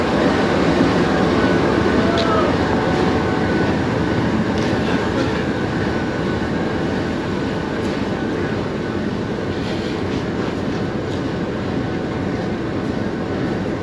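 A General Electric diesel locomotive hauls the overnight Allama Iqbal Express from Karachi toward Lahore in fog, giving a loud, steady, unbroken rumble of wheels and engine with no one talking.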